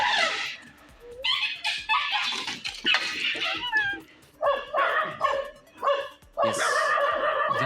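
A dog barks and yips in a residential area where a wild elephant has strayed, with several loud bursts of barking mixed with whimpering over about seven seconds.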